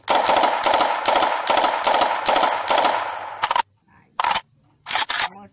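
Rapid automatic gunfire in the video game Special Force Group 2, a loud sustained burst of shots for several seconds, then a few shorter separate bursts with brief quiet gaps between them.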